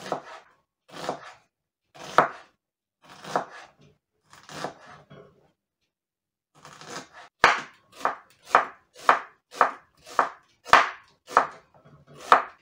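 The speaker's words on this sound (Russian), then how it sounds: "очень тонко нарежем лук полукольцами" Knife chopping onion thinly into half rings on a board, a few slow separate cuts at first, then after a pause a faster run of about a dozen crisp, close strokes in a steady rhythm.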